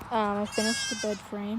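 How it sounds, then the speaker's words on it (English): Baby goats bleat in the background, several wavering cries one after another, while a person talks over them close by. "You can hear my little baby goats crying back there"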